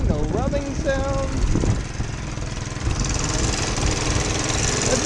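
A 1947 Whizzer motorbike engine idles after a top end rebuild, a steady close putter with a quick rev near the start, while people talk over it.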